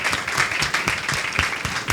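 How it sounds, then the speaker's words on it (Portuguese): An audience at a women's circle gathering against violence gives a round of applause, a lively mix of many hands with individual sharp claps standing out, continuous and fairly close. "Vamos, uma salva de palmas para a Simone."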